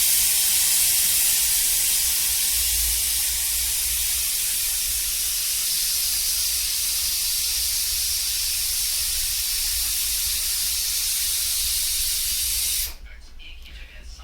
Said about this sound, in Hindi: देख लिया अब सीटी मारत कुकर